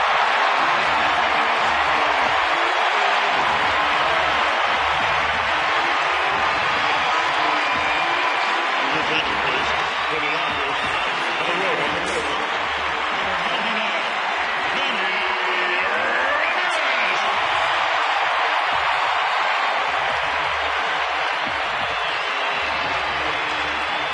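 A large baseball crowd at a Tigers–Dodgers game in Los Angeles cheers for Manny, a broad sustained roar filling the stadium for many seconds while a commentator talks over it.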